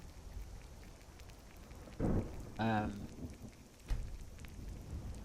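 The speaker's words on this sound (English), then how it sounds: "there's thunder." Steady rain patters throughout, with a low rumble of thunder swelling midway and a brief voice-like burst; the storm sounds moderately distant, in the video game Skyrim.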